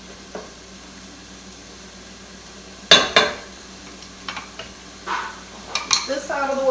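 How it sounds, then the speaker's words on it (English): Onions for chicken tikka masala fry in a pan under a faint, constant sizzle. Sharp utensil clanks and scraping stir strokes stand out above it, and a person speaks briefly near the end. "Spread those onions out so they start getting a nice cook on them."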